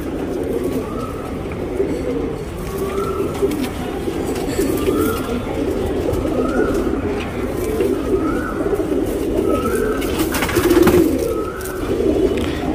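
Pigeons coo in a repeating pattern of soft, rising calls about every two seconds, close by over a steady background murmur of other birds and ambient noise.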